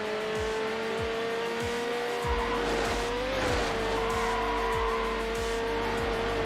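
A Ferrari V12 supercar in the racing game Need for Speed Hot Pursuit 2 skids with a long, loud tire squeal over a steady, roaring engine drone. The squeal bends in pitch midway and keeps going, with no voices.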